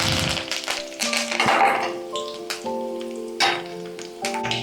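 Curry leaves, mustard seeds and cumin seeds crackling and sizzling in hot oil for cucumber palya, with sharp irregular pops over a steady close hiss.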